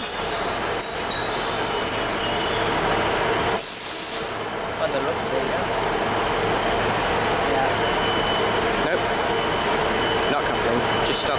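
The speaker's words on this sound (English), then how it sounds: "Local stopping service formed by 144 Pacer from Sheffield via Penistone" Class 144 Pacer diesel unit on a local stopping service from Sheffield via Penistone at Huddersfield station, a steady close rumble of railcars with wheel squeal and a brief hiss of brakes, with voices in the background.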